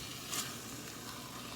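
A sloppy joe mixture simmers in a covered pan, giving a soft, steady sizzling hiss with a brief brighter crackle near the start, faint and without voices.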